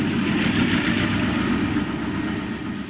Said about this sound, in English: the train whistle blows into the rolling beauty of the area